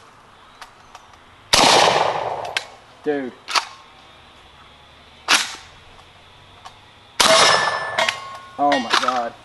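A JTS AK12 gas blowback airsoft rifle is hand-cycled with the gas off, giving sharp metallic clacks and clicks in separate bursts, close and loud, with a voice speaking briefly.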